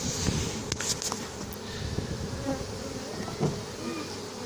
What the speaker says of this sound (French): il y a un paquet d'abeilles